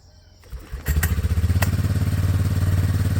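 A 2003 Yamaha Big Bear 4x4 ATV engine, long unused, starts after a few thumps and settles into a loud, close, steady pulsing idle with a rhythmic chug.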